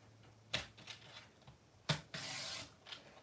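Cardstock being trimmed by half an inch on a paper cutter, heard as two sharp slicing strokes followed by a steady scraping slide of the blade and a final soft tap, close and fairly quiet.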